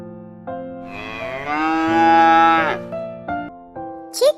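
A cow gives a single long, loud moo that rises and swells in the middle before tapering off, close by and alone, with no voices.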